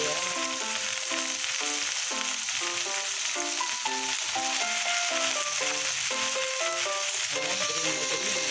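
Sliced bitter gourd (ampalaya) fries in a pan, a steady, dense sizzle that holds at an even level throughout, with faint clinks of utensils underneath.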